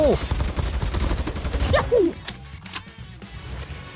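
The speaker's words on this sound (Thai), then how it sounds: "มันยิงกันตรงไหนเนี่ย" Rapid automatic gunfire in the video game Call of Duty, dense bursts of close shots over the first two seconds, then sparser single shots, with someone talking over it.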